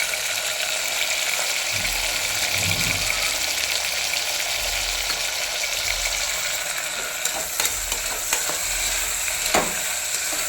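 Onions and tomatoes fry in a pan for mutton biryani, giving a steady broad sizzle with a few soft thumps and scrapes as the mixture is stirred.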